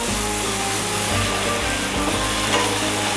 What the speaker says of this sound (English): Now we add the red chilli powder and just cook it nicely.